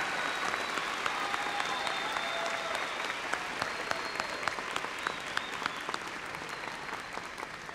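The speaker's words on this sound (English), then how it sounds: "Let's have a round of applause for our May 2018 master's degree graduates from West Texas A&M." A large crowd at the West Texas A&M May 2018 spring commencement applauds master's degree graduates, with steady, dense clapping that fills the hall for several seconds and a few faint cheers rising above it.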